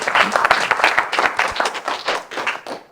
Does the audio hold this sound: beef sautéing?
no